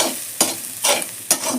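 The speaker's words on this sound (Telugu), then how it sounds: "దొండకాయలో అంతా మిక్స్ అయ్యేలా కలుపుకోవాలి." Grated coconut is stirred into ivy gourd frying in a pan, giving three scraping stirs about half a second apart over a soft, steady sizzle, close and clear, with no voices.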